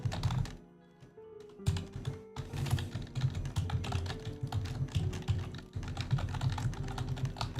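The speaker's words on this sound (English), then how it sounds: "Sorry for the clicking." Fast, steady clicking from a computer keyboard close to a microphone, typed in continuous bursts with one short pause.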